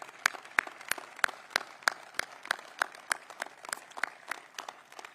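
A small audience at a public safety training center opening claps, a sparse round of distinct, evenly paced hand claps at moderate distance, fairly quiet and thinning slightly toward the end.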